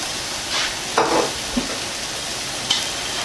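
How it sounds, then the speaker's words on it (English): Olive oil sizzles and crackles steadily in a frying pan, with a few stirring and utensil knocks over the constant hiss, close and fairly loud with no talking. "A little twirl of olive oil."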